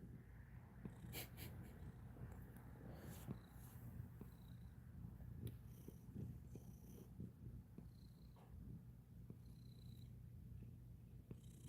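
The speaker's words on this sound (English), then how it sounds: "It's purring." A cat purrs steadily and close by, a low continuous rumble with soft breathing snorts, alone with no talk over it.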